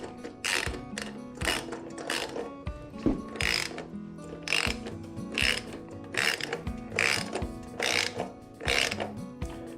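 Ratchet wrench with a size 13 socket tightening windshield bracket studs, a rhythmic series of close, loud clicking bursts repeating steadily throughout.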